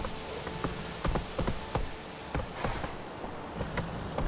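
Horse hooves clip-clop in The Witcher 3: Wild Hunt with an uneven, hurried rhythm of hoof strikes over a low game ambience, moderately loud and close with no talk.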